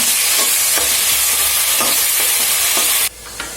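Onion sautés loudly in oil with ground ingredients for a Kerala-style coconut pulao, a dense, close sizzle with rhythmic stirring scrapes that suddenly drops away near the end.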